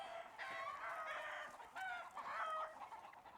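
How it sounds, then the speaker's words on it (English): A chicken clucks and squawks in several agitated bursts, fairly faint against a quiet outdoor background, with no talking. "Chicken's acting a fool right now."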